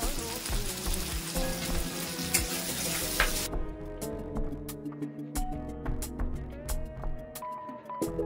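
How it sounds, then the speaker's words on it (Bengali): Onions and tomatoes fry in a pan, an even loud sizzle that turns crisper with pops and light stirring clicks partway through, steady to the end. "ভালো করে ভেজে নেব।"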